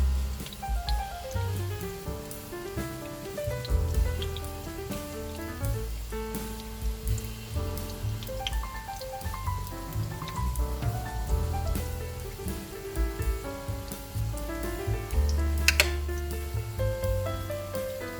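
Broccoli steak mixture sizzling in a hot pan, a steady crackling hiss like light rain that runs continuously beneath louder background music.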